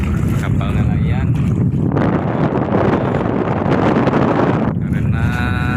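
Strong wind gusts roar across a harbor lined with fishing boats, a broad rushing surge that swells through the middle, with a voice briefly heard near the start and end.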